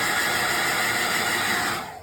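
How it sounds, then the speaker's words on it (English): A hairdryer blows steadily on a non-surgical hair replacement system through the lace, a close, loud, constant whir that drops off near the end. "We would dry it off with a hairdryer this way"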